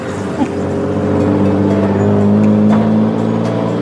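Steady close engine drone of a tuk-tuk ridden as a passenger, a continuous low hum with slight wavering pitch and no clear talk over it.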